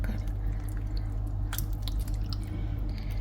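Light coconut milk pours from a half-used tin into a pan, a soft, close wet glugging and dripping over a steady low background hum, with no talking.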